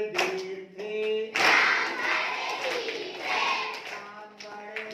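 Group clapping in time to a Hindi devotional song about Ram, steady rhythmic claps blending with a sung melody over a lively crowd.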